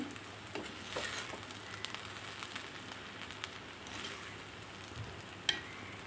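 Clam meat frying in a pan on a low flame, a soft continuous sizzle and crackle with occasional faint stirring scrapes, quiet and close, no speech.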